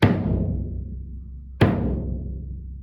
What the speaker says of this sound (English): Just listen to the kick through my iPhone.